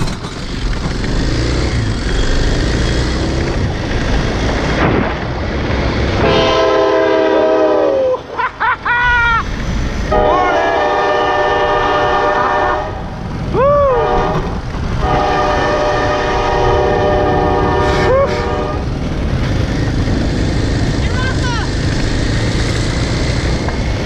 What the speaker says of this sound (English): I had no idea that train was there.